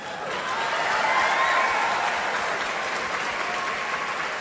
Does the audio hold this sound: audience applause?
yes